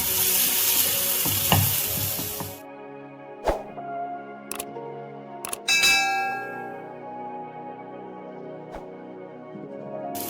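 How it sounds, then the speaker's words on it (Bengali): Onion and garlic paste frying in a hot pan for katla fish kachori gives a loud, dense sizzle for a couple of seconds, then cuts off abruptly, leaving quiet with a few sharp metallic clinks and taps. "পেঁয়াজ রসুন বাটার পেস্টটা আমি ঢেলে দিলাম এর মধ্যে। এটা একটু ভাজা ভাজা করে নেব"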